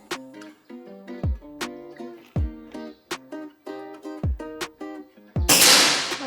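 Repeated tonal chirps and squeaks lead into one loud, close air rifle shot near the end, a sudden sharp burst that rings off briefly.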